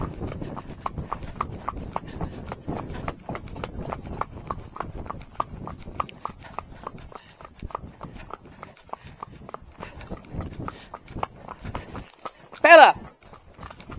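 A horse trots on firm ground, its hooves clip-clopping in a quick, steady rhythm close by, slowing toward the end, with a brief louder sound near the finish.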